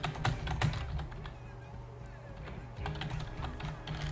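Fingers tap out a short string on a computer keyboard, clustered light clicks in quick bursts with a pause in the middle, close up, while someone talks over parts of it.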